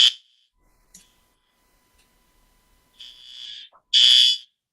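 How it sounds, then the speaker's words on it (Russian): A building fire alarm sounds in sharp, loud electronic bursts: a short chirp, then a faint pause, then a sustained tone and a louder blaring blast, close by with near silence between. "the fire alarm in my building"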